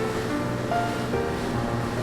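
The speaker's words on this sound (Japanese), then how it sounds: "荒波の中進む船は上下左右に激しく揺れ出し" Rough sea waves wash steadily around a high-speed ferry bound for Yakushima in heavy rain and bad weather, a continuous churning roar of water with no voices.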